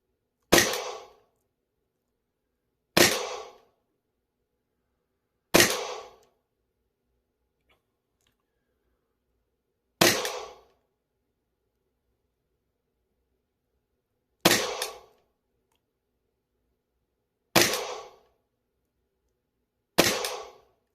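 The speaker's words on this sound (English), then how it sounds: "We're going to fire 10 shots." Seven sharp gunshots fired at a target, spaced two to four seconds apart, each loud and close with a quick decaying echo and silence between, no talking.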